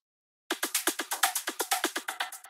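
Dry, punchy percussion hits repeat in a quick, steady pattern, each short chopped sample starting sharply and cutting off, with no voices.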